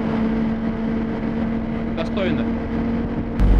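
Inside the cabin of a PAZ-3237 city bus, the engine drones as a steady low hum throughout while someone talks over it.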